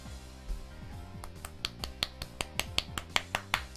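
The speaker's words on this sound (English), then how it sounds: "Clap." Sharp, snappy clap effects from the Higurashi visual novel game ring out in a quickening series of about a dozen crisp hits over soft background music, close and clear with no voices.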